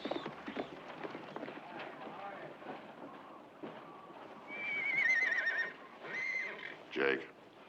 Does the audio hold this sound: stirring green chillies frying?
no